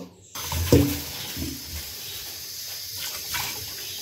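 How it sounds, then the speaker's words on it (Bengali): Water pours into a vessel to soak fish, a short splash after a moment of silence, then a low running wash of water. "তো এই তো এখন মাছটা ভিজিয়ে দিব।"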